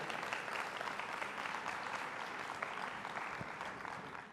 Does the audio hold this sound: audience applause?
yes